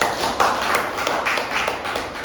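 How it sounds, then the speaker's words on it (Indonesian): A small group at a school discussion forum claps briefly, a handful of distinct, close claps and taps scattered unevenly over a busy room background. "tepuk tangan buat kita semuanya"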